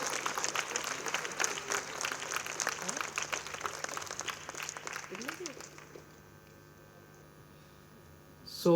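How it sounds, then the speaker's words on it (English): An audience at an invitational debate gives the moderator a round of applause, dense clapping that fades out after about six seconds, followed by quiet room hum and a brief bump at the end. "request our moderator, ladies and gentlemen, a big round of applause to Kajori Sen."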